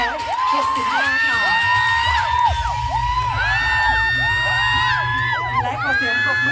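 A beauty pageant audience roars with sustained cheering, shrill whoops and excited shouting, loud and continuous for several seconds, with a voice over the crowd.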